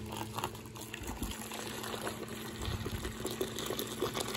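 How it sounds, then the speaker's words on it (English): Hot water poured from a kettle over several torn-open tea bags, a steady close trickle and gurgle of liquid running continuously with no talking. "now it's time for the hot water."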